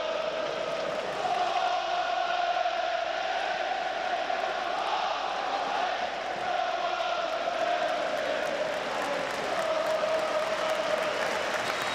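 A full Stadium of Light crowd stands and applauds during Sunderland against Huddersfield Town, a dense, continuous wash of clapping and roaring that holds steady and loud throughout, with a faint voice underneath.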